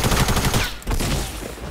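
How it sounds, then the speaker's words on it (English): Sniper gunfire in the Fortnite battle royale video game: a dense burst of loud, sharp shots and chaotic game effects, briefly cutting out before the clatter resumes, with no talking. "I'm getting sniped at."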